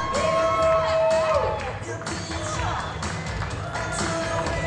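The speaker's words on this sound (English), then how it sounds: "Let's hold the applause till she shows her favorite pose." Audience at a women's physique bodybuilding competition cheers, whoops and claps in a lively, uneven swell, with a few shouted calls rising over the crowd.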